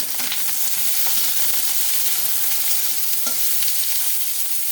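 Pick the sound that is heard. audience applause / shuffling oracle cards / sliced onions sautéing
sliced onions sautéing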